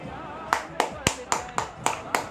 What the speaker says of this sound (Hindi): सब लोग जोरदार तालियों से सर का स्वागत कीजिए